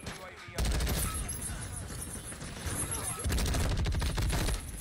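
A video game gun fires in rapid automatic bursts, a dense rattling fusillade that starts abruptly, runs loud and continuous, and then intensifies toward the end.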